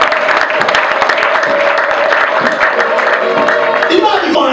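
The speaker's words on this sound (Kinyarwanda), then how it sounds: "Komera Imana amashyi cyane." A church congregation claps loudly and continuously during a charismatic service, a dense roar of applause with a voice speaking over it throughout.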